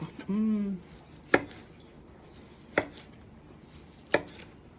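A knife cuts through hot pork belly on a board, three sharp single chops spaced about a second and a half apart, close and clear after a brief low tonal hum at the start.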